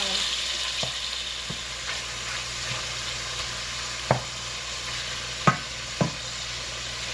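Okra browns in hot oil in a pot with a steady low sizzle, broken by a few sharp clinks and scrapes of stirring.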